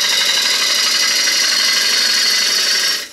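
A gouge shears a wooden bowl spinning on an electric lathe, giving a steady, close hiss of cutting that runs evenly throughout and drops away only at the very end.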